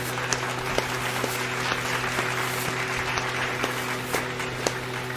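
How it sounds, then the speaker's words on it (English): Applause rises from the crowd during a Saints versus Panthers game livestream, a steady, fairly faint wash of clapping that carries on unbroken over a constant background hum, with no voices on top of it. "Round of applause for the Who Dat Nation"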